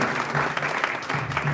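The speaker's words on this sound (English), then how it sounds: "Give a round of applause for the" Applause from an audience at a Democratic Organization of Thornton Township candidates event, a steady dense wash of clapping that fills the whole moment with no talk over it.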